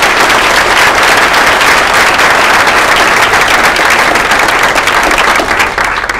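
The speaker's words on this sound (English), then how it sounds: "one more round of applause for these gentlemen for coming all the way to Homer" Loud, dense audience applause in Homer, Alaska for the US Senate debate candidates, a continuous roar of many clapping hands that holds steady and just begins to thin near the end.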